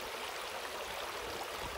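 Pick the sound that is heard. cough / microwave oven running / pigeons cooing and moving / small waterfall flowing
small waterfall flowing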